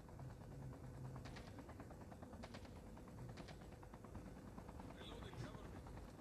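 A helicopter in a battle royale video game, its rotor chop thudding continuously beneath scattered bursts of gunfire, while players talk over the game audio.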